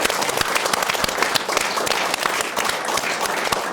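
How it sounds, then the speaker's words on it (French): An audience at a talk-show taping bursts into steady, dense applause, many hands clapping close and loud without pause for several seconds, with no voices over it. "Je vous demande un tonnerre d'applaudissements pour Pierre Barnerias"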